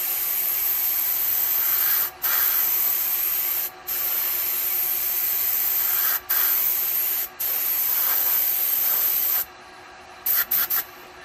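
Finish sprays steadily from a spray gun onto a woodturned cauldron, a loud continuous hiss broken by several brief pauses, then short bursts near the end.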